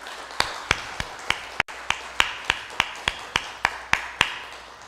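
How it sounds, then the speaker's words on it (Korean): Sharp, evenly spaced claps ring out about a dozen times in a church service, a steady single-handed rhythm close to the listener with little crowd texture behind it. "박수 합시다."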